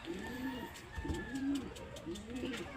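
A racing pigeon coos softly several times in a low, repeated pattern at a pigeon derby in Cauayan, Isabela, with faint ambient noise behind it.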